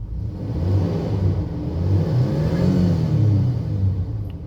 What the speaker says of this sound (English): Rev her up a little bit.